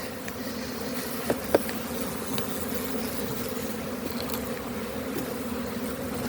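Honeybees crowd a hive at a spring apiary on a cool day, their dense, steady buzzing filling the air close by, with a couple of faint clicks.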